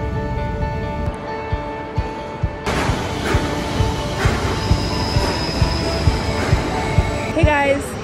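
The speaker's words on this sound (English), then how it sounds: "The tram is passing, so it's really loud." A tram rolls past close by in Maui, loud rumbling wheels with metallic clatter and a brief squeal near the end, steady and sustained throughout.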